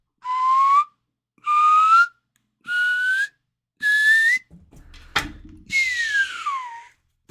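A human voice whistles in imitation of a slide whistle, giving four short, steady rising notes with gaps between them, then a clatter and a longer swooping note that glides downward, close and clear.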